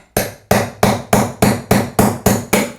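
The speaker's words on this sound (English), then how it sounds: "using a hammer and the punch," A hammer strikes a punch to drive the old bearing out of a Crankbrothers pedal body, which sits bearing-down over a socket on a hard surface. Eight sharp metallic blows land close and loud at a steady rhythm, with no talk.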